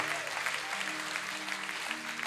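Church congregation giving a hand clap, a continuous crowd of hands clapping over a sustained low organ-like tone, moderately loud and even throughout the short burst.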